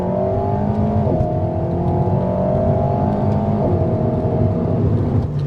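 An Alpine A110 sports car accelerates hard with a steady, loud engine note that climbs smoothly in pitch, heard close from inside the cabin with no talk.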